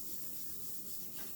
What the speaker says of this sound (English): As you're sanding with these sheets,